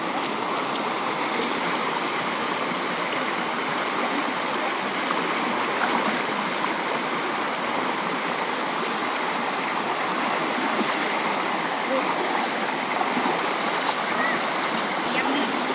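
A stream on a hiking trail on Koh Samui rushes steadily and loudly, a constant close wash of flowing water, with voices talking beneath it.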